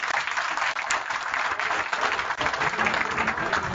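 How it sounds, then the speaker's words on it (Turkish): An audience at a community association's founding general assembly in a cultural centre in Üsküdar, Istanbul, applauds steadily, with dense, loud clapping throughout and no break. "Sizi alkışlıyorum."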